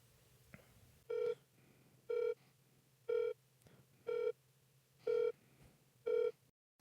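Six evenly spaced ringback tones on an outgoing phone call to a duty number, each a short harmonic burst about a second apart, clear and close over a low steady hum with no answer.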